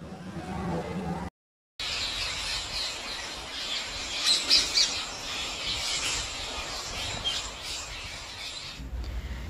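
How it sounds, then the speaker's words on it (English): Bright parrot chirps and a short squawk burst out midway through a children's alphabet song, heard over steady background sound with voices around. "P for parrot."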